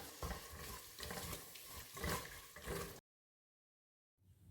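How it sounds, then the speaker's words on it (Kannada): Masala with curd frying and being stirred in a pan, a loud, continuous close sizzle with scraping stirs that cuts off abruptly, then resumes faintly after a silent gap. "ಇವಾಗ ಒಂದು ಎರಡು ನಿಮಿಷ ಚೆನ್ನಾಗಿ ಫ್ರೈ ಆಗಿದೆ"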